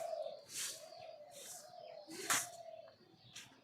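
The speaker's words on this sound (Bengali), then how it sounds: "ওই দেখেন প্রত্যেক ডালে ডালে ঘুঘু বসে আছে, অনেক ঘুঘু আমাদের এখানে।" Doves perch on branches in the trees and give a few soft, rounded cooing calls, faint and at a distance. Scattered higher chirps and light rustling come through between the coos.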